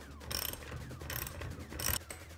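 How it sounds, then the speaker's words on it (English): A ratchet with a 17mm socket tightens the wheel nut on a drift trike, its rapid clicking coming in three or four short close bursts, quiet and with no talk. "Then we're going to get our 17mm socket."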